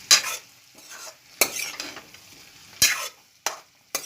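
Pork is stirred in a pan with a spatula, producing several sharp scraping strokes in an irregular rhythm over a faint background sizzle, close and without speech.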